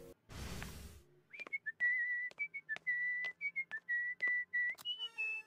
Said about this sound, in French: Comment ça se fait que tu siffles le générique?